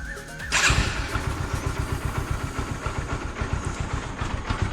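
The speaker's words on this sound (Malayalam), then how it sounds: "നമുക്കിനി വണ്ടി ഒന്ന് സ്റ്റാർട്ട് ചെയ്ത് നോക്കാം" A motorcycle engine fresh from an oil change with Motul Technosynthese fires up and settles into a steady, close, loud idle with an even pulsing beat.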